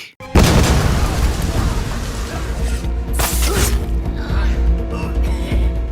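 A sudden loud blast erupts, then a heavy roaring rumble with crackling debris continues for several seconds, with a second burst midway.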